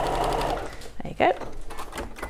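A sewing machine runs steadily while sewing a line, its loud buzzing whir up close, followed by short clicks and handling noises with faint background sound.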